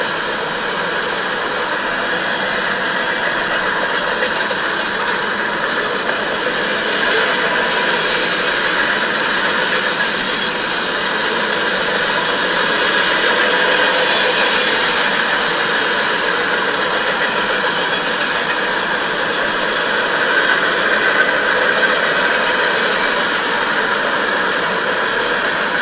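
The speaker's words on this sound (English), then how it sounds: "train is really cruising" A train cruising past at high speed makes a steady, loud rumbling roar that holds evenly for the whole stretch, with no voices.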